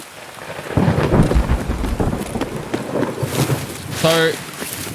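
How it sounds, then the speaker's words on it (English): Heavy rain pours steadily in a video game while thunder rumbles low and close early on, with a voice talking over the downpour near the end. "Absolutely pissing down with rain."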